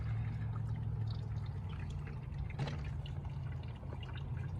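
Antifreeze coolant pours steadily into a 2015 Honda Civic, a continuous close gurgle and trickle of liquid over a low background hum.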